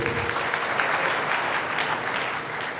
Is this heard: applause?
yes